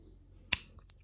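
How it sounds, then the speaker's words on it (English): A single sharp snip of cutters clipping wire ends on a square wire-wrap pendant, one quick crisp click followed by a faint trailing tick, close and isolated in near silence. "But I'm just going to cut them and curl them."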